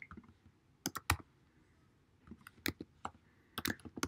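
Quiet, close keyboard typing sounds as irregular clusters of sharp key clicks with short pauses between bursts, nothing else around them.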